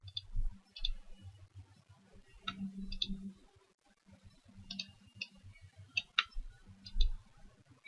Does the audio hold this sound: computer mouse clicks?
yes